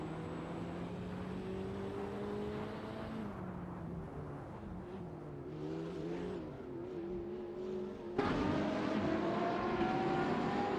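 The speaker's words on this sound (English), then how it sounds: "We just witnessed some intense racing action in the simulator." AI-driven hypercars race at Spa in a racing simulator game, with a loud, continuous engine drone that climbs and falls in pitch through gear changes, then surges louder as another car closes in.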